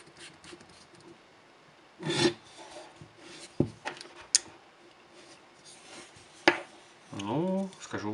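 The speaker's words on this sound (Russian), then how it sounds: "давайте попробуем включить, вкрутить и посмотреть" A cracked LED light bulb with an E14 base is screwed into a socket, giving a few short scraping, rubbing bursts of glass and metal against the fitting, close and fairly quiet between pauses.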